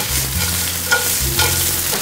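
Julienned carrots, bell peppers, green beans and snow peas stir-fried over high heat for pancit canton, a steady close sizzle broken by two scraping tosses of the pan, with no talking.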